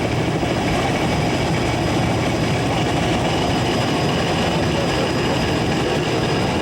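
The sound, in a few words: strange-sounding inboard racing powerboat engine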